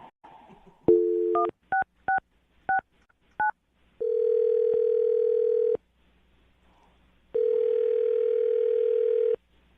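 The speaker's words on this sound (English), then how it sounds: "I'm going to dial the phone number right now" Telephone dialing with a short burst of touch-tone beeps as a number is keyed in, followed by two long, steady ringback tones separated by a pause, clear and close with no talking.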